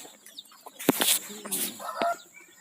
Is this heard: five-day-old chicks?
yes